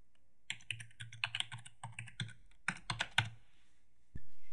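Fingers type on a computer keyboard while entering text into a spreadsheet, a run of irregular, fairly quiet keystrokes and clicks close by with no talking.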